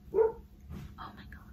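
Pet dogs bark at a window in a house, a sharp close bark followed by a few quicker yips and whines over faint background hum.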